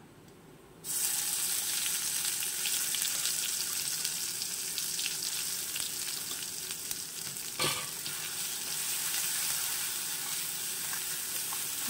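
Ground mustard spice paste with a pinch of nigella sizzles steadily in a pan, a continuous frying hiss that starts abruptly after a quiet moment, with a brief stir or clatter midway and no talk.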